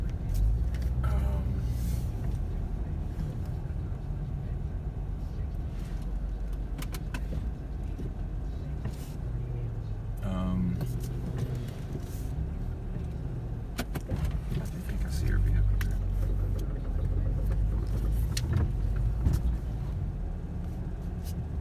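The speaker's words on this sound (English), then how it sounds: "Those are two pick-em-up trucks." Two pickup trucks drive past on a road, a steady low rumble of engines and tires that swells and fades over about twenty seconds, with faint jangling and background noise.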